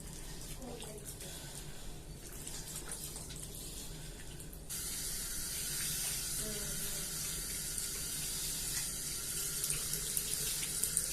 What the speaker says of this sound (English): Rinse hand with water.